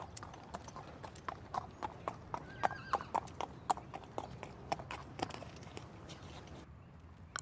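Steady clip-clop of horse hooves in the video game Star Stable, a string of sharp, evenly spaced knocks close by over a low background rumble.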